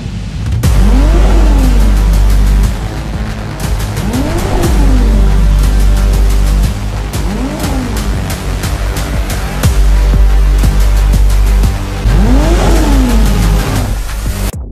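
A Ferrari F80 hypercar with a hybrid 3.0-liter twin-turbocharged V6 making 1,200 horsepower revs loudly and close. It sounds in repeated rising and falling surges, with a steady low drone underneath.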